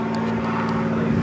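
A tow plane passes overhead at a glider field, giving a steady droning propeller-engine hum that holds evenly through a brief moment, with no voices.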